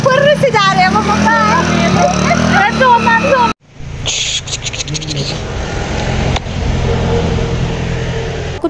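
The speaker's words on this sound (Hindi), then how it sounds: "अभी चलते हैं बाइक पे।" A motorbike rides along a road; after a brief cut, a steady engine drone and rushing wind-and-road rumble continue, following a stretch of talking at the start.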